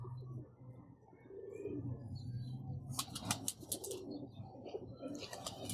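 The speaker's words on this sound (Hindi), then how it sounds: "ये जी, ये कबूतर है।" A gifted pet Teddy pigeon, one of a male and female pair, gives low, rolling coos nearby, then wings flap in quick, loud bursts partway through and again at the end.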